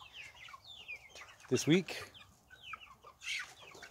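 A backyard rooster clucks, close and moderately loud, with one louder squawking burst in the middle and a faint voice talking briefly alongside.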